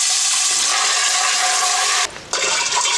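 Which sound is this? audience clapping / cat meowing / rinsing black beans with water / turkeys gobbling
rinsing black beans with water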